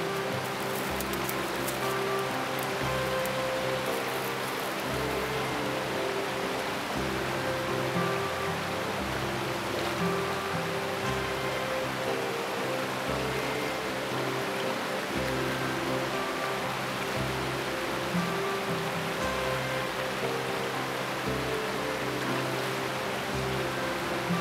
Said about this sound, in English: I'm in the middle of crossing a river, so I need to cross the river